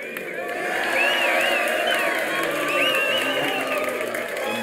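A crowd cheers and applauds at an in-game event in the expedition game Curious Expedition. The burst of whoops and clapping is loud and sustained for a few seconds, with wavering shouted tones over it.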